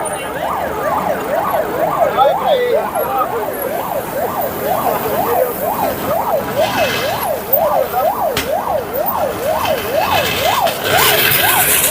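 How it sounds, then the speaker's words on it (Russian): An ambulance siren wails in a steady, repeating up-and-down cycle on a city street in Ufa during a mass cycling event, loud and close throughout over a constant background of traffic and street noise. "Скорая выехала."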